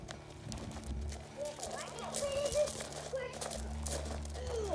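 A horse's hooves clop across the floor as it is walked into a barn, producing scattered, irregular knocks beneath people talking and a low hum in the background.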